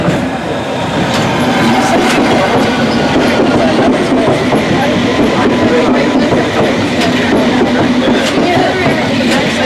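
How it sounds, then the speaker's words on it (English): A steam train on the District Line, heading toward Ealing Broadway, rumbles steadily close by, with rhythmic clacking of wheels over rail joints throughout. "I have a few second clip of the steam train out here"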